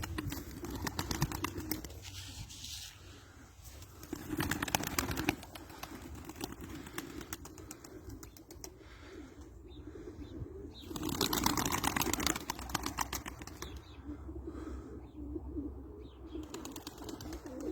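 Pigeons coo and flutter inside a wooden coop as feed is scattered for them, a steady backdrop of bird calls and occasional wing flaps with louder bursts throughout.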